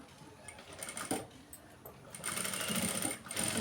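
A sewing machine stitches cloth lining for a blouse in a close, steady mechanical whir that builds louder and faster partway through, with brief pauses in between.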